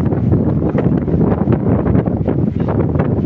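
Strong wind buffets the microphone outdoors at a fire in Tanauan City, Batangas, in a constant loud, low roar with gusty fluctuations and no pauses.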